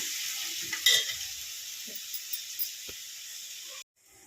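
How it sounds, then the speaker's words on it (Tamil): Steady close sizzling of onions and tomatoes frying in a pan for fish curry, with occasional stirring scrapes, cutting off abruptly near the end. "சேர்த்து வதக்குங்க வெங்காயம் தக்காளி"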